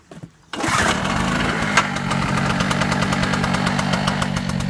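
Small Chinese two-stroke generator, choked, fires up after a brief quiet moment of pulling and then runs with a loud, rapid, buzzing two-stroke putter that stays steady and close.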